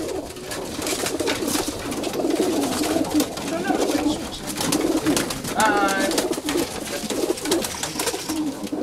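Racing pigeons landing at a loft in Leukovrisi, cooing steadily and close by amid fluttering and rustling, with a person talking now and then in the background.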